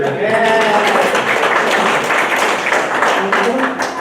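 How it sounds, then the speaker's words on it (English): At a summer library concert with a klezmer band, a crowd bursts into loud, sustained applause, dense clapping with some voices mixed in. "A round of applause for the library."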